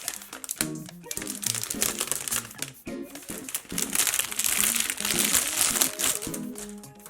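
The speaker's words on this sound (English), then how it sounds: "Now I'm about to bless your ears with that satisfying sound of plastic being taken off the iPad." Plastic wrap being peeled off a new M1 iPad Pro 2021, close crinkling and crackling that swells and fades in irregular bursts, loud and crisp with no talking.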